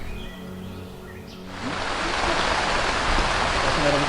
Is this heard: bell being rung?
no